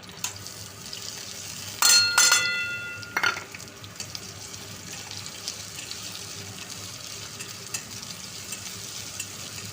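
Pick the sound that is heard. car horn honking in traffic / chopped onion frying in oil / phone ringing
chopped onion frying in oil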